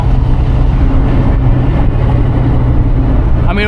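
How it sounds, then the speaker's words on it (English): Mazda Miata engine pulling hard under throttle, a loud, steady low drone close by that holds through the whole stretch with little change. "Back on the throttle."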